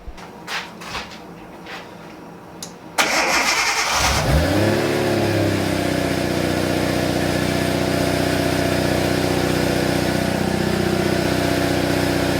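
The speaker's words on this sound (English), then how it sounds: "I am going to start the car for you guys" A few quiet clicks, then a Nissan RB25DET engine with a new ISR turbo cranks and catches, revs up loudly, and settles into a steady, fairly loud running drone.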